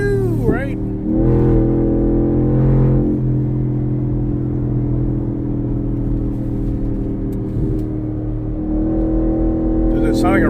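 A race truck's engine drones loudly and steadily throughout, with rising and falling revs and a deep rumbling tone, while people talk over it.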